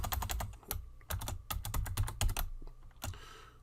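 Rapid clattering keystrokes on a computer keyboard while HTML markup is entered, coming in quick close-miked bursts with short pauses between runs.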